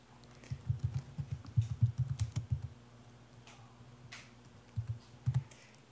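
Fast typing on a computer keyboard in a medical records program, a close burst of rapid key clicks for a couple of seconds, then a pause and a few more keystrokes.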